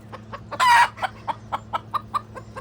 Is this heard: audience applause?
no